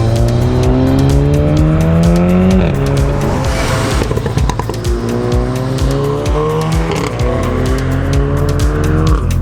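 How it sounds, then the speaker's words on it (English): Loud, continuous engine and exhaust roar from a 322bhp Volkswagen Golf R with its resonator deleted, revs rising and falling through gear changes, raspy and droning, filling the whole stretch. "Let's get in the car and listen to the Res Delete from inside there."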